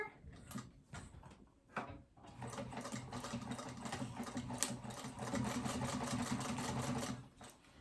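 A sewing machine stitching lining fabric to a zipper on a small phone pouch, running in a few short bursts, then a long steady close-up run of rapid stitching.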